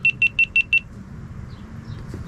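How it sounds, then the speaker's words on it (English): A camera gives five short, high-pitched electronic beeps in a quick, even row, then stops, leaving a quiet low room hum. "some beeping going on there"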